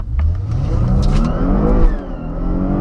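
A Porsche Panamera with a 300 hp V6 accelerating hard from a standstill, its engine note rising steadily through the revs, loud and close from inside the car, with no talking.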